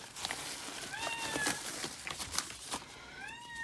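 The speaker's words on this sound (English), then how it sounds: "Excuse the cat meowing." A cat meows several times, rising and falling calls over faint background noise, fairly close.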